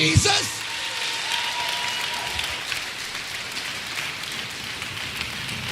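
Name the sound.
congregation clapping in church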